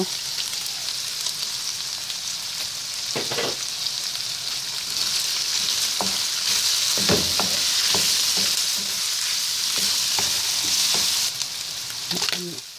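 Small pieces of ginger fry in hot oil for a spicy pork laing dish, giving a loud, steady close sizzle broken by sharp pops and spatters and the scrape of stirring.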